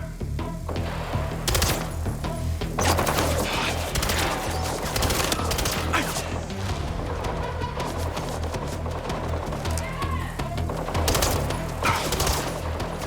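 Sustained automatic gunfire in the video game Mindseye: dense overlapping bursts and sharp cracks over a steady low engine-like drone, loud and continuous throughout.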